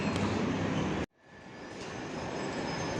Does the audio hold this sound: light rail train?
yes